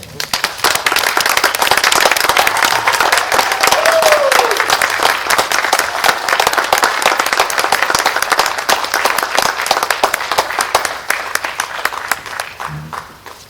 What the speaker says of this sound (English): would you please stand and give a round of applause for the class of 2020.